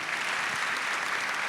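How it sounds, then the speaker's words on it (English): An audience claps together at a cultural celebration event at the Bibliotheca Alexandrina, a dense, steady burst of applause that fills the room throughout the short moment, without talk over it. "Go ahead, give it a clap."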